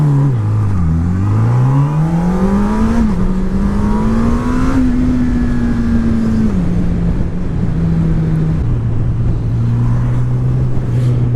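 A 2018 Honda CB1000R motorcycle engine revs loudly under throttle, its note dipping then climbing steadily and settling into a sustained high drone that steps down toward the end, close and continuous with no talk.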